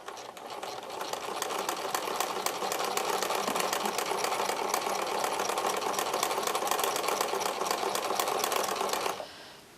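Sewing machine stitching appliqué onto show clothing, running in a steady, continuous fast whir for about nine seconds before stopping abruptly near the end, close and alone.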